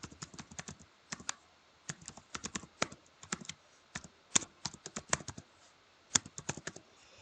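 Rapid, irregular clicks of computer keyboard keys while an email address is entered, close and fairly quiet, in bursts with short pauses and no talking.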